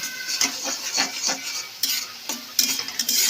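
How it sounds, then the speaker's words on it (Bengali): Cumin and chili powder stirred in oil in a pan, soft sizzling punctuated by irregular scrapes and taps of a utensil against the metal, close up and uneven in rhythm. "জিরে গুঁড়ো হালকা করে নেড়ে নেবো"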